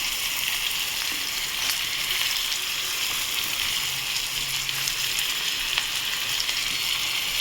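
Onion and potato fry together in hot oil with a continuous, even crackling sizzle, close and fairly loud throughout with no break.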